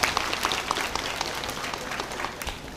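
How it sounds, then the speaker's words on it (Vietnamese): A church congregation at a Catholic feast-day Mass gives the parish choir a round of applause, a fairly quiet, sustained patter of clapping heard from a distance in a reverberant hall. "chúng ta cùng cảm ơn anh chị em ca viên bằng một tràng pháo tay thật nồng nhiệt nữa."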